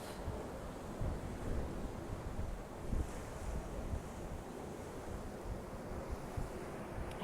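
Ocean waves at Marblehead on a full-moon evening wash in as a soft, continuous surf with gentle swells and some wind buffeting the microphone, fairly faint and with no voices.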